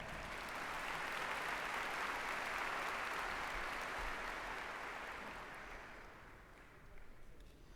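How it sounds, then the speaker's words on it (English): Sustained applause from a commencement ceremony crowd, a dense wash of clapping that holds steady and then gradually fades, heard from a distance at low level. "Let's give one more round of applause to them."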